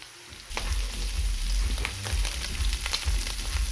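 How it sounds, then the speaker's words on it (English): Bratwurst sausage and two strips of bacon fry in a pan, a steady close sizzle and crackle that grows louder after a brief quieter start, with occasional pops and no voices. "So right now we're just cooking up a little of that bratwurst sausage and 2 pieces of bacon"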